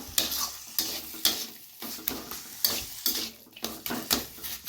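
A spoon stirs papaya ghonto with coconut and nuts in a sizzling pan, scraping and clinking against the metal in a steady series of strokes, close and clear, with no talk.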